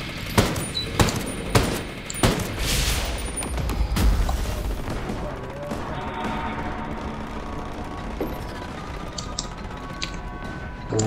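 Sustained automatic gunfire in the Ghost Recon Breakpoint video game on critical difficulty, a dense burst of loud rapid shots and booms at the start that settles into a continuous rattling firefight.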